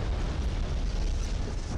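A heavy, rumbling blast from the battleship Yamato's cannon in a naval video game, loud and sustained with a deep roar that fills the whole moment.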